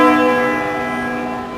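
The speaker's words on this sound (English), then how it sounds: "hundreds of churches up and down the country have opened their doors to visitors to try and encourage new interest in the ancient art of bell ringing" A church bell rings out in a single resonant strike, its rich metallic overtones humming steadily as the tone slowly fades, with no voices present.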